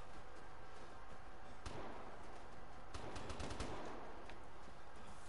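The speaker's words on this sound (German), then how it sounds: "Die Schüsse sind nah." Gunfire in the online shooter Vigor: sharp cracks and a quick burst of rapid shots close by, ringing out over a constant background hiss with no talk.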